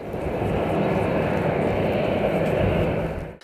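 A Siberia Airlines passenger airliner's engines give a loud, steady, broadband roar that stays even throughout and cuts off abruptly at the end. Speech is likely present under the noise.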